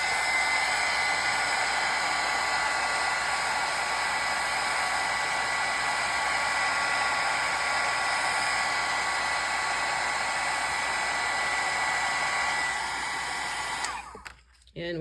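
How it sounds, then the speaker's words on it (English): A heat gun blows a steady, loud rushing whoosh over Distress Oxide ink on paper, holding constant for most of the time before cutting off abruptly near the end. "let's hit these with the heat gun"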